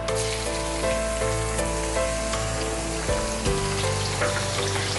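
Two tablespoons of finely chopped garlic fry in oil already used for frying chicken, giving a loud, steady close-up sizzle with crackling pops and a few stirring knocks, while a low tonal hum runs underneath.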